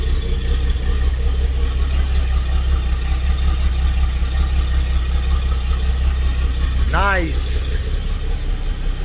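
A BMW 745i E23 in perfect condition idles smoothly with a steady low rumble throughout, while a person talks over it and a brief chirping sound rises near the end.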